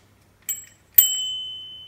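Two bright rings of a bicycle bell, a quick light ding followed by a louder strike that lingers and fades, close by in a quiet space.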